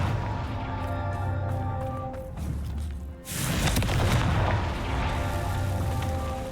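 A Confringo blasting spell from Hogwarts Legacy bursts into a loud, broadband explosion partway through, followed by a rumbling roar over a steady game background.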